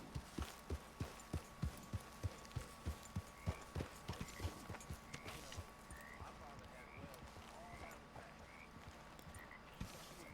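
Horse hooves clip-clopping in Red Dead Redemption 2, a steady rhythmic trot of sharp hoofbeats that slows and softens toward the end, with a voice talking over it.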